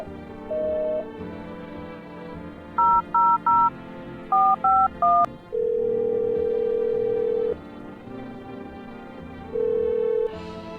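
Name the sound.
telephone keypad dialing tones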